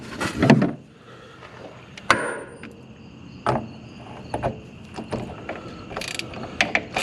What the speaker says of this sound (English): I'm going to have to loosen it up a little bit more with the socket first